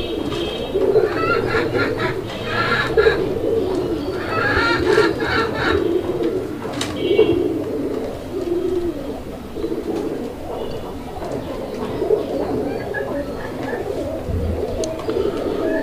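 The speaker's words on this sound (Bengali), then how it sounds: "আপনারা দেখতে পাচ্ছেন নরটা কি পরিমাণ ডাকে আলহামদুলিল্লাহ, একদম ভরপুর ডাকের একটা নর।" A male native Bengali domestic pigeon coos loudly and repeatedly at close range in rolling bursts, with other pigeons cooing nearby and faint background talk.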